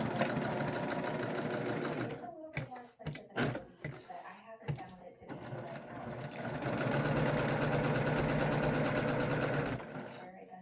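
Sewing machine stitching fabric lining for cross stitch finishing, running steadily and fairly close for a few seconds, then pausing with a few clicks and handling knocks before the whirring stitching resumes and carries on to the end.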